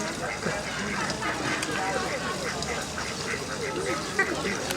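Ducks quacking in an aviary in a Budapest park on Margaret Island, scattered calls over a steady outdoor background at a moderate distance, with faint voices nearby.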